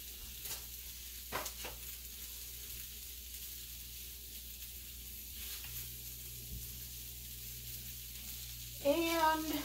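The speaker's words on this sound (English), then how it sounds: "I'm going to fry up these Vermont maple flavored pork sausage links" Vermont maple flavored pork sausage links fry in a pan with a faint, steady sizzle, a few soft utensil knocks, and a voice briefly at the end.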